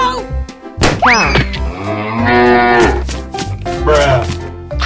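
A cartoon cow gives a loud, stretched, rising moo in the middle of a busy cartoon soundtrack with boings and thwacks, and brief voices around it.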